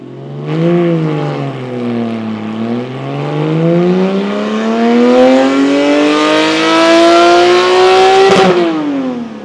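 A Porsche 718 with a 4.0-litre engine and Soul valved exhaust revs through a dyno pull, heard from about 50 feet: a loud, clear exhaust tone that dips, then climbs steadily in pitch for several seconds before cutting off.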